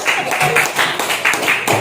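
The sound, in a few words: class applauding a group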